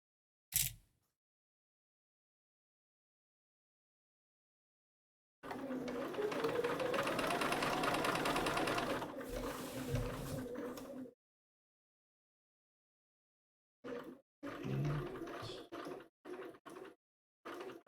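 Sewing machine stitching fabric in a continuous run of about five seconds, followed later by short bursts of stitching, including a brief back stitch, with quiet gaps between.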